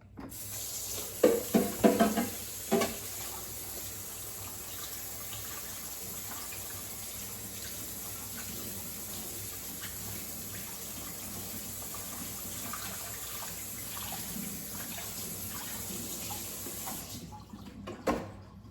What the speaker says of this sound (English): And I do wash my grapes with hot water just to make sure that they are cleaned pretty good.